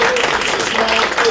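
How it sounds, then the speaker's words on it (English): An audience applauding, a dense, steady wash of clapping that fills the short moment at full strength, with faint voices mixed in. "Can we give them a round of applause?"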